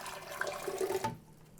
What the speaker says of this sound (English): Into the blender, put a full cup of hot water.